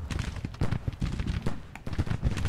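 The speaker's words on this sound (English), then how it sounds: "Beautiful shot on Smith's brigade" Cannon fire rolls across a Civil War battlefield near Dunker Church in the video game Grand Tactician. Dense, overlapping booms and crackling volleys are heard in rapid irregular succession, with no talking.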